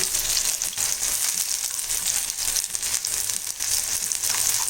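Plantain slices for a vegetarian fish fry sizzle in hot oil, a bright, continuous crackling hiss with small fluctuating pops, close and steady throughout.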